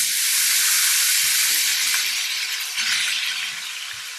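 Shrimp frying in a pan of hot oil with Old Bay seasoning for a vegan seafood pasta salad, giving a loud, steady, bright sizzle that swells slightly near the end and carries on without pause.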